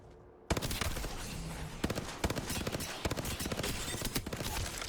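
Rapid automatic weapon fire in the shooter game Apex Legends starts abruptly after a short quiet moment. Dense bursts of close, sharp shots continue, with a few louder cracks standing out.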